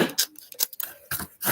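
Scissors snip in short crisp bursts, several cuts in quick succession, close by, while trimming during metal charm making in a craft setting.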